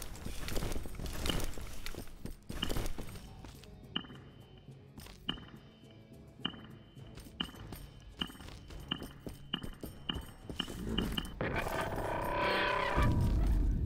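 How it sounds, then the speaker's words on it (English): In the video game Call of Juarez: Bound in Blood, horse hooves clip-clop in an uneven rhythm, sharp knocks repeating close by amid scattered clatter and scuffing, ending in a louder noisy rush. "I hear a horse."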